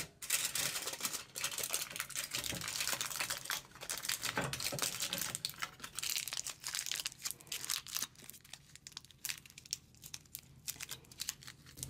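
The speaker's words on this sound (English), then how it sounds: "you're going to take your peeled garlic and wrap it in a piece of foil." Peeled garlic cloves being wrapped in a sheet of aluminum foil, giving a steady run of close crinkling and crumpling with a few sharper crackles, with no one talking.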